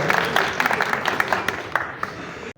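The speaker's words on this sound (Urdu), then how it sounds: "تالیاں چوہدری صاحب" Crowd applause at a Pakistan Muslim League (N) political gathering honoring Chaudhry sahib, a steady wash of many hands clapping that holds for a couple of seconds before cutting off sharply at the end.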